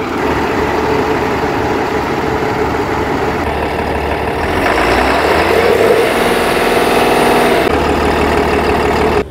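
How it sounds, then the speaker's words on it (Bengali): A Tata Cummins engine idles on a new Tata LPO 1618 BS VI bus chassis, a loud close steady diesel rumble with a slight rise in revs partway through. "Tata Cummins engine."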